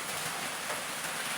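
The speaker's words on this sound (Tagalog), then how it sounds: "Kaya dahil malakas yung ulan," Heavy rain pours down outside a house in a steady, dense hiss that fills the whole short stretch evenly, with no talking.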